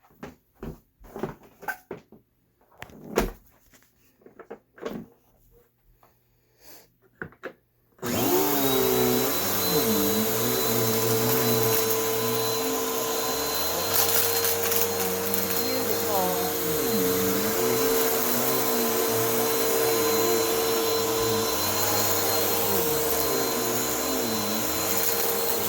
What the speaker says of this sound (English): Let's see if the vacuum works now.